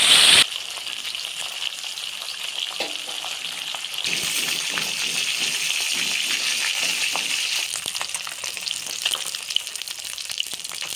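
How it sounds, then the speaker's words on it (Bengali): Katla fish frying in hot oil in a wok for a Bengali fish curry with potato and eggplant, a steady loud sizzle that swells after the fish goes in and continues with small clinks and crackles, no voices. "তেলটা গরম হয়ে গেল মাছটাকে ছেড়ে দিলাম"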